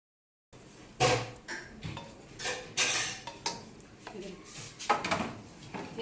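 Milk halwa is scraped and transferred into a metal pan. A spoon clanks and scrapes against the cookware in irregular knocks, close to the microphone and fairly loud, with someone talking throughout.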